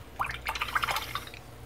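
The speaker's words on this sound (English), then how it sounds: "give the brush a bit of a rinse" A paintbrush sloshes and clinks in a water pot between colours while a miniature figure is painted, giving a short burst of close, bright trickling and dripping splashes.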